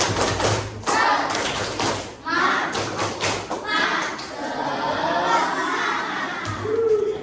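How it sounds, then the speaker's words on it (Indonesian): An elementary school class claps together in bursts of rhythmic claps and taps, mixed with children's voices and shouting. "Coba kita tepuk semangat dulu ya. Tepuk semangat."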